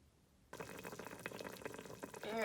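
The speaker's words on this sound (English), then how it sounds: "here's a quick picture of my carnitas sauteing" Pork carnitas sautéing in the bottom of a Ninja Foodi set to medium high: after half a second of near quiet, a soft, steady sizzle and bubbling starts and keeps going, building slightly toward the end.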